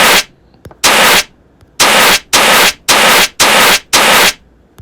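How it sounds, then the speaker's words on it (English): Fire extinguisher sound effect in a Thunkable quiz app game, repeated as loud hissing bursts, seven blasts of roughly half a second each in a quick irregular rhythm, with brief clicks between. "Every time I click this icon, you hear that fire extinguisher."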